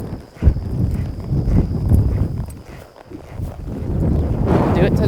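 A horse lopes around an arena, its hoofbeats thudding in a rolling rhythm over a low wind-buffeted rumble, close to the microphone, with a voice speaking briefly.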